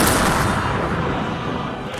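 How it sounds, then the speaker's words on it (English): Cinematic Battle of Waterloo (1815) scene with a French artillery battery bombarding a fortified position: dense, continuous rumbling cannon fire and booms, loud and close, filling the whole stretch without pause. "A French battery on the left had been bombarding the position"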